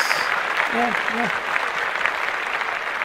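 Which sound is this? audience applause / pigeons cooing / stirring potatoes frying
audience applause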